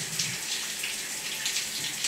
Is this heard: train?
no